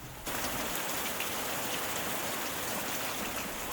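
Heavy rain pours steadily onto a city street, a dense, loud hiss of water striking pavement that begins abruptly and holds constant with no voices.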